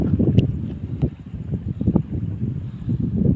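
Strong wind buffets the microphone in gusty, rumbling bursts, loud and uneven throughout.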